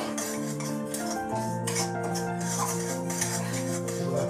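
Wheat semolina being dry-roasted in a pan for a Maharashtrian sweet, with light scraping and clinking from stirring under a steady, fairly loud tonal hum, heard close and without speech.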